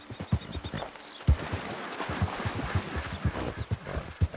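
Horse hooves clip-clop steadily in the video game Red Dead Redemption 2. The rhythmic, fairly quiet thuds repeat at an even walking pace across the whole stretch, with no voices over them.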